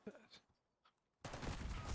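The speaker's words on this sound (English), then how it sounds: "Putting in some serious work with the SMG in hand, with the JACKAL" Rapid JACKAL SMG bursts in Call of Duty, loud and close, erupting after quieter gameplay sounds and sustained dense automatic fire to the end.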